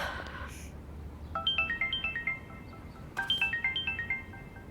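A mobile phone rings while a call is placed to Rameez: two bursts of a melodic ringtone, each a quick rising run of bright tones, heard close over a low background hum.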